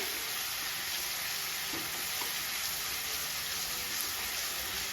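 Garlic and ginger sizzle steadily in hot oil in a pan, a dense continuous frying hiss with faint stirring, close and even throughout.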